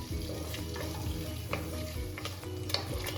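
Meat being turned and browned in melting butter for a clay-pot bean stew, with a steady close sizzle under irregular scraping stirs of a spoon against the pan, no voices.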